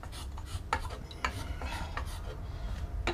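A spokeshave draws across wooden spoon stock held in a vise, giving short rasping shaving strokes with brief scraping bursts and small knocks, close and fairly quiet, with no talk.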